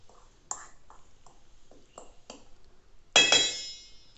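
A spoon stirs flour, salt and baking soda in a bowl for a diamond cut cake, making a series of light, separate clinks against the bowl before a louder clattering burst near the end.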